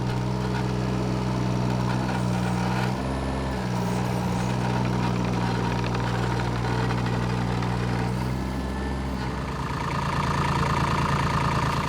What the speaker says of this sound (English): the simple joy of turning the key and having the engine start